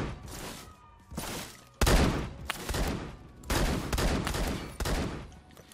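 Shotgun fire in Phantom Forces crackles in rapid, loud bursts, several blasts in quick succession separated by short gaps, close and dominant.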